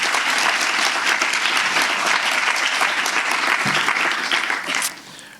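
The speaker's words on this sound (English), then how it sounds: "a round of applause." An audience applauds at an Office of the Attorney General gathering, with dense, sustained clapping from a room full of people that fades out at the end.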